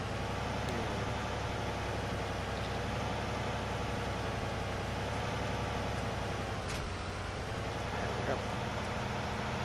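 A powerful tractor in a farming video game idles with a steady, continuous engine drone that holds evenly throughout at moderate loudness.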